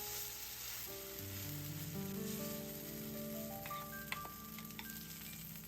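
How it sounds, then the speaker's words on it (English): Potato pancake dough frying in butter in a hot pan, a steady close sizzle that runs throughout with occasional small pops and crackles, no voices. "you're going to take your potato dough and you're going to fry it in some"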